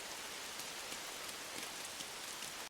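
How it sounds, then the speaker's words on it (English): Steady, even rain pours down through an episode of an anime, a dense wash of drops falling continuously with no pauses and no voices over it. "It's raining, so it's gonna force everybody in to see it."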